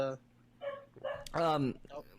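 A person imitates a dog, giving a few short yipping barks with a whimpering edge, close and fairly quiet, spaced unevenly.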